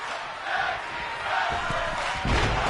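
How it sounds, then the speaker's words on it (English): Capacity crowd at a tag team pro wrestling show in an arena, cheering and roaring steadily with a swell near the end and a few thumps from the ring. "Capacity crowd making some noise."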